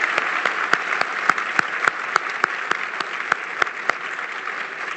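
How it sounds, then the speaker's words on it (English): Sustained audience applause at a health event with Ontario's Minister of Health, a steady wash of many hands with a few louder, distinct claps standing out near the microphone. "Please join me in a round of applause."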